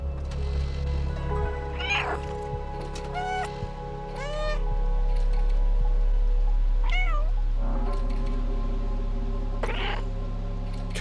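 A small cat in the video game Stray meows repeatedly, roughly half a dozen short mewing calls spread across the stretch over a steady low ambient hum, clear and fairly close, with no speech.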